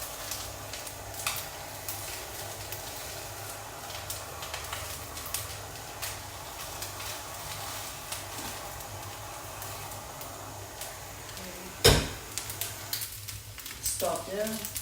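Vietnamese rice noodles for hu tieu xao fry and char in a hot pan with a low, steady sizzle and occasional stirring scrapes, a sharp clatter near the end, and faint speech underneath.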